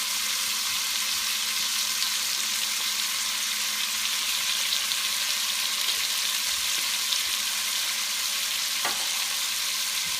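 Fennel seeds sizzle in a hot pan while Zuppa Toscana is being made, a loud continuous hiss of frying that runs steadily throughout with one or two faint clinks, and no talking.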